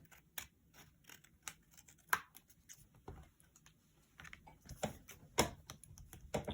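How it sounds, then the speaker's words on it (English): Scissors trim the edge of a decorated card, a close series of crisp, irregular snips and clicks with brief pauses between cuts, fairly quiet and with no talking. "And then cut off the edge."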